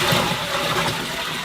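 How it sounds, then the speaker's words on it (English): Rainwater from a bucket pours into a barrel outdoors in winter, a loud, close, continuous gush and splash that lasts the whole moment with no voices. "pour the water in the barrel"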